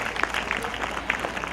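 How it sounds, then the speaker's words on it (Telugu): Brief burst of crowd clapping at a church ceremony installing a 76-foot Mary statue at Paleru, moderately loud, dense and continuous, with no speech over it. "అందరూ దయచేసి గట్టిగా చప్పట్లు కొట్టండి"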